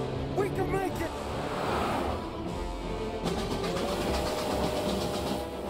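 A train rumbles past in the video game Mafia: Definitive Edition, a loud, steady rolling roar with wheel and engine noise that swells then fades, while players talk excitedly over it.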